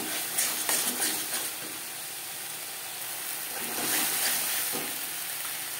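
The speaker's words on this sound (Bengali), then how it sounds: "মশলা কষিয়ে নেওয়া হয়ে গেছে" Spice masala sautéing in a pan for kosha alur dum, with chilli powder, a steady soft sizzle and frying hiss running throughout and brief stirring scrapes rising now and then, close and moderately quiet.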